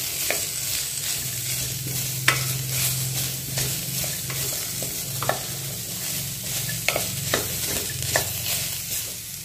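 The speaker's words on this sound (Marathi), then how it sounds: "दोनच मिनिट गाजर गॅस मिडियम ठेवा आणि तुपात गाजर थोडंसं भाजून घ्या." Grated carrots roasting in ghee over medium heat for carrot halwa, a continuous close sizzle with a low hum from the burner and occasional scraping strokes of a spoon against the pan.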